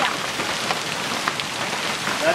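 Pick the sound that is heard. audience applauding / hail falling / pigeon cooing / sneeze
hail falling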